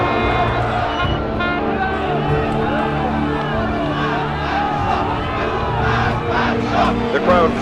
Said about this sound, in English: The crowd shouted death to the Shah.